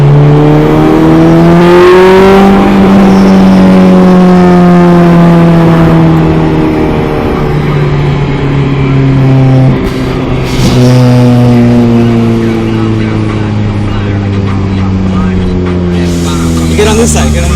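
A car with a stock LS engine and stock ECU accelerates hard toward a 7,000 rpm redline, its loud, close engine note climbing through rising gear pulls with short drops at the shifts, while people talk over it.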